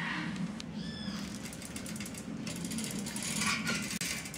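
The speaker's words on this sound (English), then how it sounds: "When the locking ratchet is armed, the axle can now only rotate in the counterclockwise direction." A locking ratchet and pawl on a rotating axle, giving repeated mechanical clicking and gear-like ticking over a steady background, with no talk.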